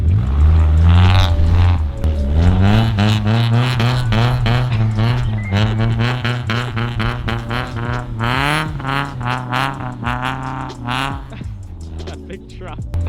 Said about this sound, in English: He's got to floor it in reverse.